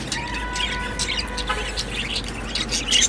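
A single canary chick in a home breeding setup gives thin, high chirps and tweets, faint and scattered over steady background hiss, with no talking.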